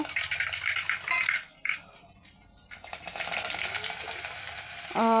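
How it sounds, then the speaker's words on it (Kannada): Spices crackle in hot oil as a tempering for a fine rava upma-style dish, with a bright sizzle near the start that dips briefly, then returns steady and close before a sharp metallic clatter at the end. "ಈಗ ಫಾಣೆ ಕೊಡ್ತೀನಿ ರೀ"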